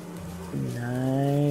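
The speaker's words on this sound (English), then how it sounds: "Give me the bee." Bees in the game Don't Starve Together start a loud, steady buzzing drone partway through that swells and holds to the end, with no talk over it.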